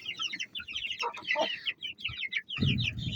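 Several Indian chickens cluck and squawk busily up close, overlapping in quick bursts, with a brief low rustle near the end.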